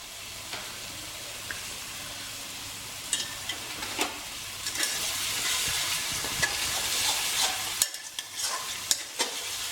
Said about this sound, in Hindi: प्याज बढ़िया भून लिए हैं अपन ने।